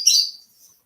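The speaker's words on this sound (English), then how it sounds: "it's still a little early, so you might hear my birds" Pet birds chirp indoors in a quick, bright burst of high tweets that fades fast into near silence.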